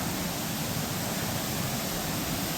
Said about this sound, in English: So this waterfall here